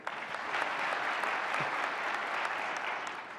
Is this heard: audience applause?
yes